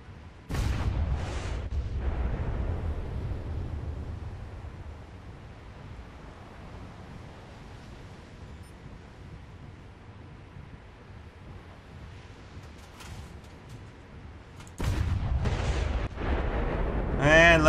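Heavy 180mm naval guns on a ship in War Thunder fire in loud booming salvos at the start and again near the end, with a long rumbling, sea-like roar in between.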